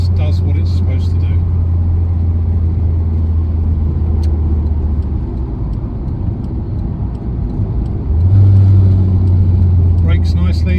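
A 1989 Toyota Celica GT-Four Rally ST185 drives along with a steady, loud engine drone and road rumble, the pitch rising briefly near the end as it accelerates; a person speaks over it at times.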